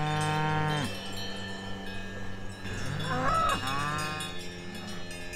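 Cows on a summer hiking trail in the Swiss Alps give loud, close, drawn-out moos, several in a row, each a low, droning bellow that overlaps the next.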